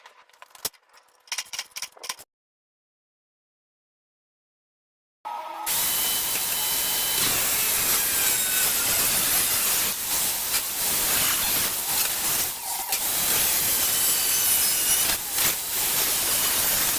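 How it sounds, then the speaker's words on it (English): A cutting tool slices metal lips off the bodywork of an LDV van, a loud continuous harsh grinding roar that starts abruptly after a few faint knocks and a silent gap, then runs steadily to the end. "next I've got to cut these lips off"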